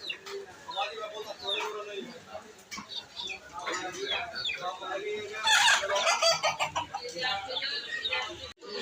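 Hill chickens and roosters at a market, with scattered clucks and bird calls mixed into a busy crowd under steady talking.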